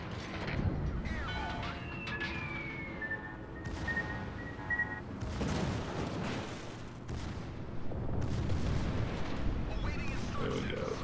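Battleship secondary guns firing in World of Warships, booming shots and crashes dense under game effects with someone talking over the battle.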